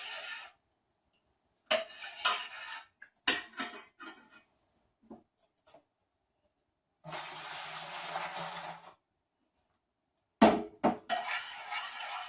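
A metal spoon clatters and knocks against a pot holding dissolved malt for homebrewed beer, with scattered close clinks, a burst of wet sloshing and long silent gaps.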